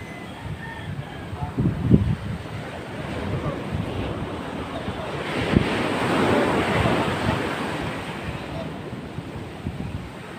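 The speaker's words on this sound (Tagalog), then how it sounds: "Ang laki ng alon." Large ocean waves crash against a damaged breakwater on a shore, a continuous roaring surf with rising swells and wind buffeting the microphone throughout, fairly close and steady.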